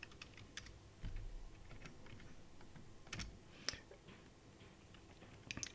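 Computer keyboard typing a name on a picoTracker Advance setup, with scattered soft key clicks and a few sharper taps, quiet and close, no talking.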